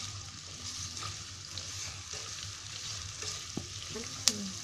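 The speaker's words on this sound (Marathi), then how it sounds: "मी कांदा चांगला लाल करून घेणार आहे फ्राय" Onions frying in a pan over a high gas flame, a steady close sizzle with a few light scrapes and one sharp clink near the end, no talking.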